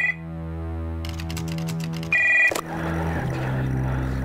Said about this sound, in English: Behind the door, a phone starts to ring.